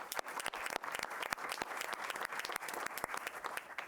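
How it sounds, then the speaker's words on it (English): A school board meeting audience applauds student weightlifters, with steady, dense clapping from a room of people lasting several seconds. "just want to give them one more round of applause"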